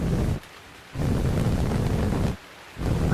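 Steady rain on a street in a video game, a broad even hiss that drops out twice briefly and then returns, with no voices over it.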